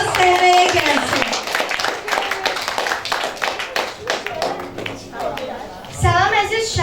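Children's audience clapping at a New Year's holiday concert, dense applause swelling near and loud, with children's voices and an announcer's talk over it, rising again toward the end.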